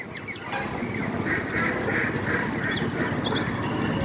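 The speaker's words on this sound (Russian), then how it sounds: "Перелетные птицы." Ducks quack repeatedly at a moderate distance, a chattering chorus of calls over steady outdoor background noise.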